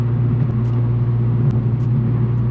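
An Infiniti Q50 running a flame map tune accelerates with a steady, loud, deep engine rumble, continuous and close, with no talk.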